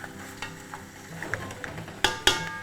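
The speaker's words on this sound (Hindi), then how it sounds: "ये गोश्त के साथ जो प्याज भुन रहा है ना" Onions and mutton frying in a pan for nihari, a steady crackling sizzle with soft stirring scrapes and two sharper clanks near the end.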